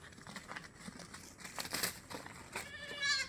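A large crossbreed goat bleats near the end with a short wavering call, after stretches of rustling and crinkling close by.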